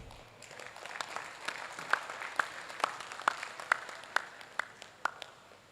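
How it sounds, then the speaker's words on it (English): A conference audience applauds a lead paper presenter at a management science international conference. The clapping is faint and distant, with a few louder individual claps ticking out at a fairly even pace over the light wash. "another round of applause for our lead paper presenter"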